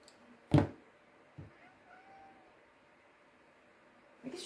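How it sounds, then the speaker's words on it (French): A small cat that has climbed indoors gives a soft, faint meow amid quiet room sounds, framed by a couple of sharp knocks or thumps. "Un petit chat qui est monté, qui n'avait rien à faire là."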